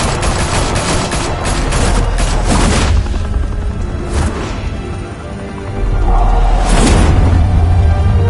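Rapid gunfire bursts from Batman: The Telltale Series, a loud volley of shots and booms in the first three seconds, then a sparser lull with a whoosh before a second heavy blast and a sustained low rumble near the end.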